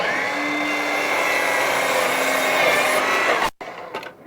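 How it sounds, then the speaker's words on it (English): A power saw makes a miter cut through a board for a grill shack wall. A loud, close, sustained whine and rasp runs for several seconds, stops abruptly, and is followed by a brief faint rattle. "cut through it the rest of the way"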